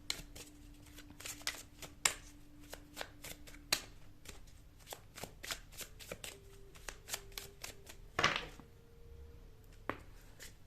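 Tarot cards shuffled by hand during a pick-a-card reading, a rapid run of crisp riffling flicks and taps close to the mic, fairly quiet, with a faint steady tone underneath and no talking.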